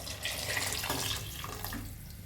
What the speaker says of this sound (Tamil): ரெண்டு டம்ளர் அளவு தண்ணி சேர்த்துக்கோங்க